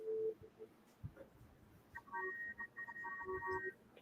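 Electronic telephone call tones beep in short repeated bursts during a phone call, faint and intermittent with muffled background noise.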